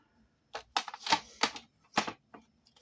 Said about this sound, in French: Hop, oui, mon massicot. Et je vais couper.